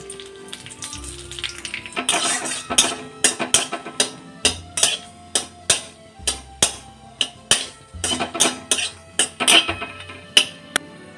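Dried red chillies and nigella seeds fry in hot oil in a pan, giving a steady crackling sizzle broken by a run of sharp, regular knocking or tapping hits close by.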